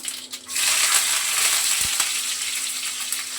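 Mustard seeds, cumin, curry leaves and garlic hit hot leftover frying oil in a home kitchen, giving a loud, steady sizzle and crackle close by, with a few sharp pops and no talking.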